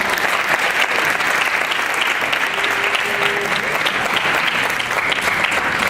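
Loud, dense applause fills a room at an MLK breakfast after a student's essay reading, many hands clapping steadily and evenly from start to finish.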